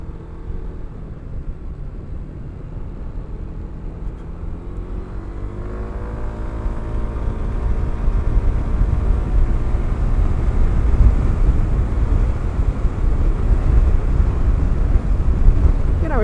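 A Zontes 310 M 300cc scooter cruising on a motorway, its engine drone and heavy wind roar rising steadily as it gathers speed, continuous and close with no talking.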